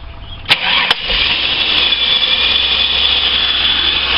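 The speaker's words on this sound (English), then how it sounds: "It is idling high, but it'll calm down." A car engine, just after a throttle body carbon cleaning, cranks briefly and catches, then settles into a steady, fairly high idle with a constant whine, close by.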